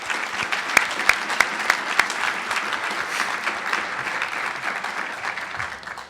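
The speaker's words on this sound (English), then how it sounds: "I think he deserves a special round of applause." An audience at a Healthy People 2020 launch applauds in a full, steady burst, with a few sharp individual claps standing out early before the sound gradually fades at the end.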